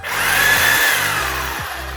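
A Sawzall reciprocating saw runs close up with a harsh, high buzzing drone and a choppy underlying stroke rhythm, staying loud throughout with a short dip near the end.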